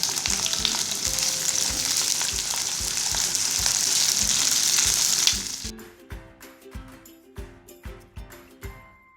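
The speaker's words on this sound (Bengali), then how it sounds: "পেঁয়াজগুলো দিয়ে দিলাম। একটু ভাজা ভাজা হতে দেবো" Loud, steady sizzling of onions frying in hot oil with rhythmic stirring knocks; the sizzle drops away after about five seconds, leaving clattering and a softer crackle.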